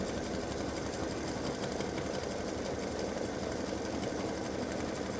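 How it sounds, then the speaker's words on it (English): An embroidery machine stitches freestanding-lace dog paw earrings and a gift tag in a 5x7 hoop, a steady, fast mechanical whirring and needle chatter running continuously and evenly throughout. "My machine is telling me it's going to take 29 minutes to stitch"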